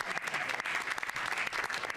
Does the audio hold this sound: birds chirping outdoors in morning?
no